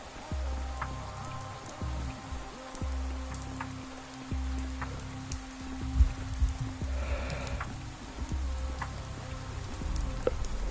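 Steady rain patters and hisses in the video game Pathologic, a soft, even wash of drops with a few faint taps and thumps underneath and no talking.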